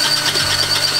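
A drill bores a hole with blunt, worn bits for a hot tub build, giving a steady, grinding whine with faint squealing that runs unbroken and fairly loud throughout, with no voices.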